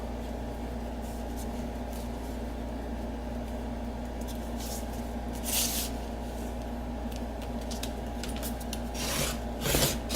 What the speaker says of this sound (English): So if I trim this down to the 7 inches tall